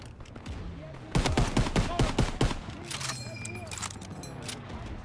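Gunfire in the World War II shooter Call of Duty WWII: dense bursts of rapid shots, loudest in the middle, with scattered single reports and battle clatter around them.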